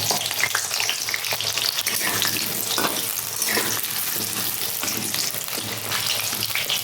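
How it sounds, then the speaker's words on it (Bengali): New potatoes frying in hot oil in a kadai, a loud, dense, continuous sizzle close up with occasional stirring scrapes and crackles throughout, no voices. "তেলটা অলরেডি গরম হয়ে এসছে আর আমি প্রথমে আলুটা ভেজে নেব"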